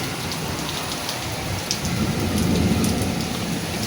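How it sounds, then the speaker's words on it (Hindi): Steady rain hisses close by, thick and constant, with a low rumble swelling beneath it partway through. "वो देखें व्यूअर्स बारिश हो रही है, आपको पता चल रहा होगा।"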